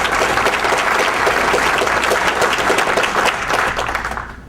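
A crowd at a political speech bursts into loud, dense applause with sustained clapping that holds steady and then fades toward the end.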